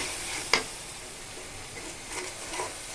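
Ginger, garlic, turmeric, chili and cumin spice paste sautéing in a pan, a soft steady sizzle with a sharp stirring scrape near the start and faint scraping later, no talk.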